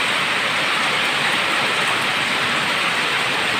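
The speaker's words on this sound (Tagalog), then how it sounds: "Umaga pa, nag-uulan na." Steady rain hisses without pause, a dense wash of noise that stays even and close for the whole stretch.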